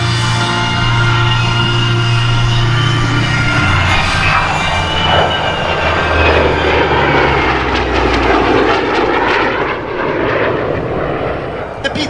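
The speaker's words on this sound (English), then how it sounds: "flying that P-40 up there" A P-40 warplane with a propeller engine flies overhead at the Columbus airshow, a loud sustained engine roar that swells and shifts in pitch as it passes, with a commentator talking over it.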